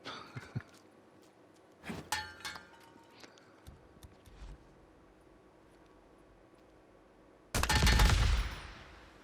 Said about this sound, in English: I'm just going to show that the canisters, when they are moved, they will explode.